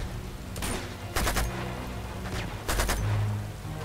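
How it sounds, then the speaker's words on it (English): Distant bursts of gunfire in Uncharted 2: Among Thieves, several short crackling volleys spaced apart over a low ambient bed, no talking. "Who the fuck is shooting at me?"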